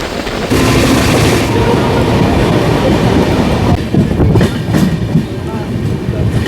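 A passenger train runs on rails near a station platform in Durgapur. A loud, steady rumble and roar build up and hold, with rhythmic clatter and heavy thumps coming through toward the end.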